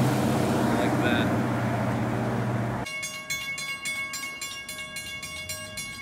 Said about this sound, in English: And they got the steam engine running today, which is awesome.